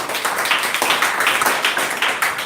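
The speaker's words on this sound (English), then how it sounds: "so big round of applause to them" Audience applause for participants of an English speech contest, a dense, steady patter of many hands clapping at moderate volume throughout, with no talking over it.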